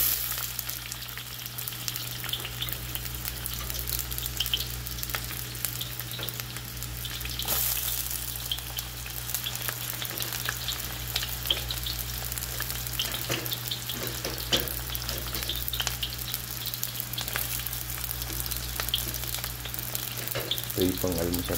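Onions sizzle steadily in hot cooking oil for a breakfast pancit, a dense, continuous frying crackle that holds close and even throughout, with a low steady hum underneath and no talking.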